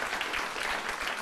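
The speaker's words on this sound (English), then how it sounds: "Applaud." A studio audience breaks into brief, dense applause, a short steady burst of clapping with no voices.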